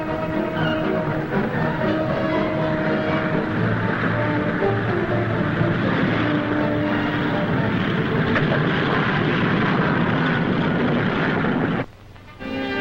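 WWII fighter plane propeller engines roar steadily near a coral airstrip laid with Marston matting, a loud continuous drone that cuts out briefly near the end.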